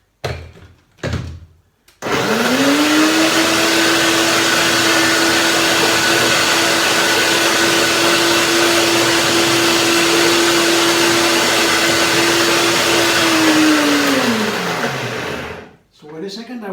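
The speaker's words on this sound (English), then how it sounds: "Another blender dance." Blender running while making a chocolate cake, a steady loud motor whine that starts abruptly after a couple of brief knocks, holds for about twelve seconds, then winds down.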